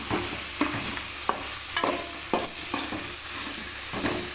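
Tomato masala sautéing in oil in a pan: a continuous sizzle broken by regular scraping stir strokes roughly every half second, close and clear, with no talking.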